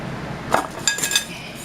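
A glass canning jar of raw-packed salmon with its lid and ring clinks into a canner: a soft knock, then a couple of bright glassy clinks close by, with no talk.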